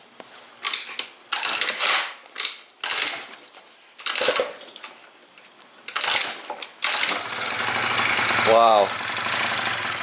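A scooter engine cranked several times in sputtering bursts, then catching and firing up into a continuous buzzing run while choked by hand with the airbox off; a voice briefly exclaims over it.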